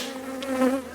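Honey bees buzzing around a hive on a farm, a steady close insect drone with a wavering pitch that swells slightly toward the middle of a brief moment.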